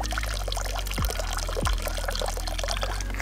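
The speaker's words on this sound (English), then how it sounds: "You just stick it on there and push your water through it." Water is forced by hand through a backpacking water filter to back flush it while camping, a steady pouring, rushing flow with a couple of low gurgling pulses.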